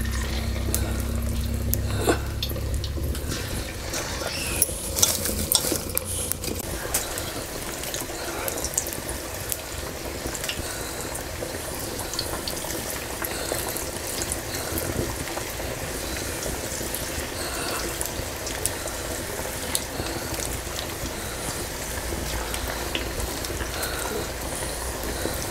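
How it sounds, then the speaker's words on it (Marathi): Marinated chicken 65 pieces frying in hot oil give a steady, dense bubbling hiss that runs throughout at moderate level, with a few brief clinks near the start and no talk over it. "आता एक एक तेलात सोडते, तेल पण तापलेलं आहे."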